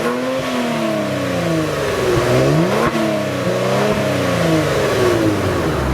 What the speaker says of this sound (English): For those of you interested in knowing how the Stinger GT sounds when it revs up